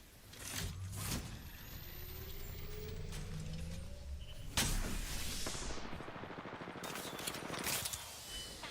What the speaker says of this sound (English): Enemies firing at me